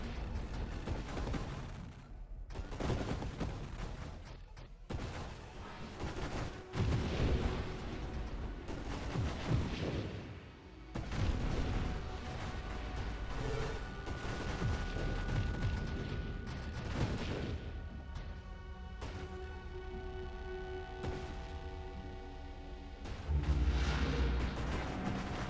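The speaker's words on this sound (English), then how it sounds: "Burst Fire." Burst-fire weapon shots from a space-snake game boom and crackle in dense, repeated volleys, loud and near, with heavy explosive impacts layered over a continuous electronic backdrop.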